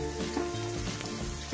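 Meatballs frying hard in a pan for spicy nasi goreng, scorched dark, with a continuous close sizzle and stirring scrapes and clatter of a utensil, no voices.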